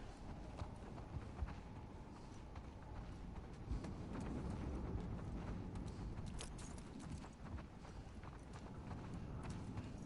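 Horses' hooves clip-clop steadily in The Last of Us Part II, a soft, continuous run of hoofbeats over a dense, muffled game background with no talking.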